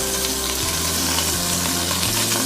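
A 3 lb beef roast sears in a hot pan with a loud, dense, continuous sizzle. A low hum sits steadily underneath it.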